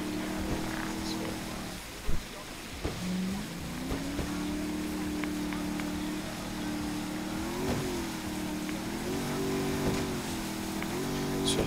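A boat engine drones steadily in a video game, its pitch rising and settling as it speeds up, with a few sharp clicks and knocks over the hum.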